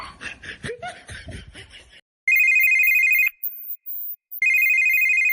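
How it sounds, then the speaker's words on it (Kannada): A telephone rings with a bright electronic trill in two long bursts broken by a short gap, coming right after people talk and chuckle. "ನೀವು ಫೋನ್ ಬರಾಯ್ತು ನೋಡಲ್ಲೇ"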